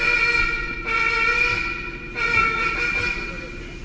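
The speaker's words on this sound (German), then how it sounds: "Ich glaube, das ist ja die Hupe gewesen." A car horn blares in long sustained tones, broken by brief gaps, over a background of road and engine noise.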